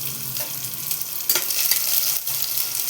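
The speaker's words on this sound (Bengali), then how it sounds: "তেলটা গরম হয়ে গেছে, এর মধ্যে বেশ খানিকটা কুচনো রসুন আমি দিয়ে দিচ্ছি।" Chopped garlic sizzles and crackles in hot mustard oil in a pan, a loud close continuous frying hiss with bursts as it is stirred.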